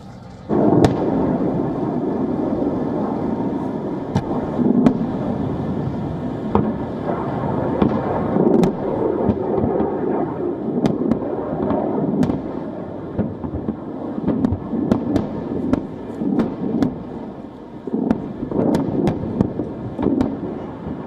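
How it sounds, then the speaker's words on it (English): Barrage of rockets fired from Gaza, heard as a continuous loud rumbling roar broken by repeated sharp cracks and pops over about twenty seconds, with no speech. "fired a fresh barrage of missiles from Gaza"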